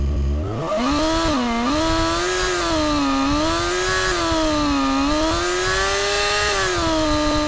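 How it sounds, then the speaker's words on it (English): A synthesized small model engine from the AudioMotors v2 Pro plugin, starting up then holding a high-pitched, buzzing whine that rises and falls gently in pitch, loud and continuous with no talk. "Much more like a model engine."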